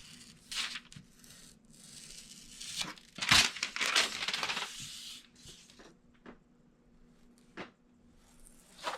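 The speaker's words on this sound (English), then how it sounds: "So I'm going to use my finger blade to trim away the excess." A finger blade trimming excess from a 12 by 12 inch sheet of custom double-sided paper, producing soft scratchy cutting and crinkling bursts, with one louder tearing rip near the middle against a quiet room hum.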